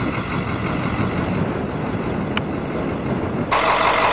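A 1996 school bus with a governed engine, in great condition, idles nearby in a steady, even diesel rumble with no breaks and a slight lift in loudness near the end. No one speaks.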